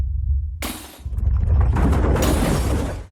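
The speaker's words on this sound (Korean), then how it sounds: "외벽 벽돌이 떨어지고 유리창이 깨지고 있습니다" Glass windows shatter in a loud crash, then breaking debris keeps rattling and tumbling in a dense noisy wash for a few seconds during an earthquake drill at a temple stay building where exterior bricks fall.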